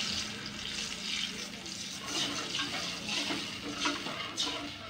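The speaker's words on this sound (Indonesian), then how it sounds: "kita kasihkan air ya" Water poured into a hot pan of fried garlic while cooking Betawi lontong, a hissing, splashing sizzle that runs steadily throughout with faint clatter.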